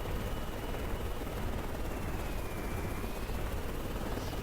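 A helicopter in the Carrier Command 2 video game flies at speed, giving a steady dense rotor and turbine roar that stays constant and loud throughout, with a faint high whine drifting across it.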